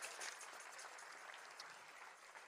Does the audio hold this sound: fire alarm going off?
no